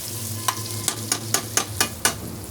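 Vegetables for veg biryani frying in a pan, with seven sharp, evenly spaced spatula strokes over a low, steady sizzle, close and with no talk.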